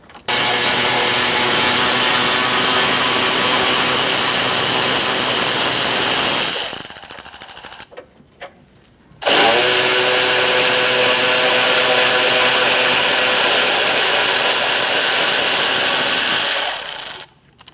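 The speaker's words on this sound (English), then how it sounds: "Using a 10mm socket, we're going to undo this bolt." A 10mm socket on a power driver undoes an AC condenser bolt on a 2006-2011 Chevrolet HHR, giving a loud, sustained whirring buzz in two long bursts split by a short gap.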